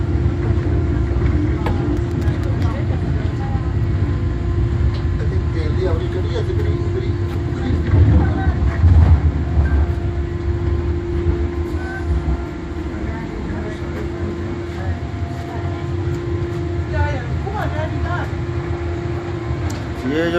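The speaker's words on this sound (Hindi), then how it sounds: "ये जो ट्रेन गुजरी है ये हॉलैंड से आई है, फेलनो से।" A train passes by in Wuppertal, Germany, on a service arriving from Venlo in Holland, a steady broad rumble with a sustained tone that holds for about twenty seconds at moderate distance.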